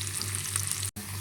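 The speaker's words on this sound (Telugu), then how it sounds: "కొద్దిగా ఫ్రై అవనిద్దాం." Tempering spices fry steadily in hot oil for a ridge gourd curry, a close, continuous sizzle with a brief gap near the end.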